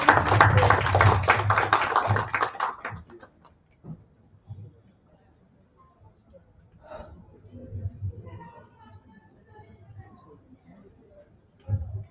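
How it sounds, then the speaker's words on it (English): Applause from an audience at a cloud professionals' live event in Nepal, a dense burst of clapping for the first few seconds that quickly dies away, followed by quieter talk and scattered small noises. "So if you could give a huge round of applause"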